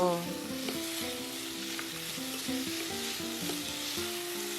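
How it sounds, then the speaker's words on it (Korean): Vegetables and meat sizzle steadily in hot oil, a continuous crackling stir-fry with soft stirring sounds and faint music in the background. "식용유 2스푼 넣고 썰어놓은 채소와 고기를 볶아주세요"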